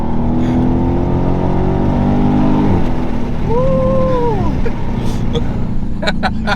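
A 2017 Dodge Charger Daytona 392 accelerates with a loud, continuous engine roar heard from inside the car, while people talk over it.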